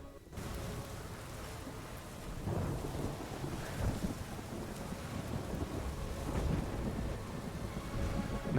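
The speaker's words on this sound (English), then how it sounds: "It's stormy." Rumbling thunder and heavy rain in a video game thunderstorm, a dense, rolling low roar with bursts of crackling thunder, fairly quiet and continuous.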